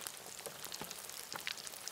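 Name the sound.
chicken deep frying in oil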